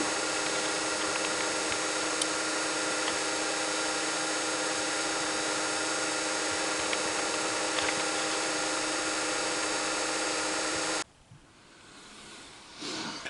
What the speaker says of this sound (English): I'm drilling the hole for the screw to clamp it to the cross slide